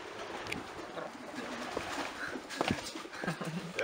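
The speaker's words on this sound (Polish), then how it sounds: "Tutaj znajdujemy się akurat w gołębniku rozkładowym Siaka" Pigeons in a breeding loft coo and shuffle softly nearby, scattered calls and wing or foot sounds over a quiet indoor background.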